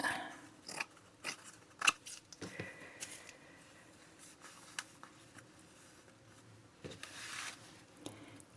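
Scissors cut through paper card in quiet, close snips and rustles, irregular and clustered, with soft handling noises between cuts and no talking.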